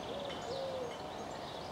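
A dove gives a single drawn-out, low, soft coo over steady outdoor background noise on a countryside walk between Glynde and Seaford in late June.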